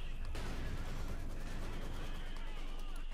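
Mortar barrage artillery fire in a Company of Heroes 2 video game battle, a sharp blast followed by a steady rumble of distant explosions and crackling gunfire, dense and continuous throughout.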